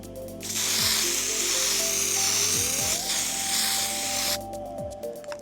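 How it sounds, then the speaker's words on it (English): Platinum 160 web spray adhesive hisses loudly and steadily from a spray gun onto a screen-printing pallet in one long burst of about four seconds, with faint mechanical whirs underneath. "as we spray it on top of the palette, it has its true web type spray"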